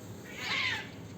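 A single cat meows close by, one short rising and falling call while cats wait for food near a building, with no talking.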